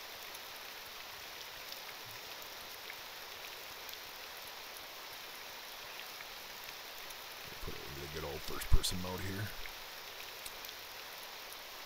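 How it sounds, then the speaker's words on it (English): Steady hiss of video game rain falls throughout, with a person speaking briefly over it and a short burst of louder thuds and clatter near the end. "not even mad that it's raining, even though it always rains when I'm trying to play."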